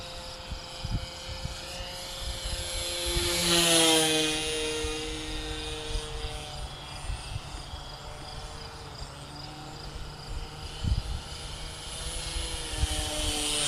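A Harbor Freight P-51 Mustang RC model plane flies overhead, its propeller whine climbing and falling as it passes near and then drifts off, over faint wind and scattered background noise.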